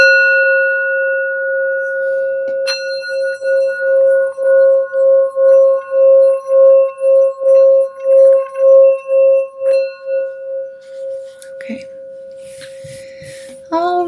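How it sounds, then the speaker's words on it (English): A singing bowl struck once and then rung around the rim, giving a steady, pure tone that swells and pulses rhythmically, then fades before faint handling noise and a short clatter. "ring the sound bowl"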